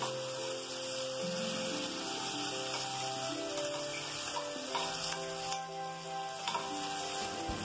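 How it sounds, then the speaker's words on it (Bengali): A ground spice paste for chhena dalna fries in oil with a soft, continuous sizzle while being stirred. Steady tonal background music plays over it, with a few sharp clicks here and there. "মশলাটা তেলের মধ্যে দিয়ে বেশ কিছুক্ষণ নাড়তে হবে।"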